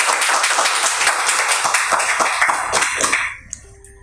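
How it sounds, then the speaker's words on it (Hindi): Audience clapping at a Hindi poetry performance, dense rhythmic claps from a crowd that fade out abruptly after about three seconds, leaving near quiet with a faint tone. "आप सभी लोगों से रिक्वेस्ट है कि तालियां बजती रहे"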